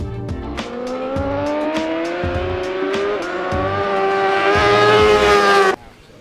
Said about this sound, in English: jumping on a Fireblade for the first time.